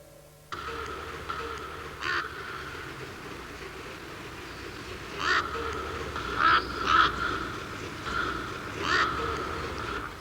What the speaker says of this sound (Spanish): Los graznidos de un cuervo nos revelan la presencia de un bebedero.